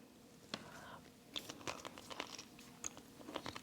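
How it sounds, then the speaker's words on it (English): Crisp crunching of a tortilla chip bitten with grilled corn salsa, close and quiet, with several sharp snaps followed by soft chewing. "I'm going to give it one more small bite with a tortilla chip."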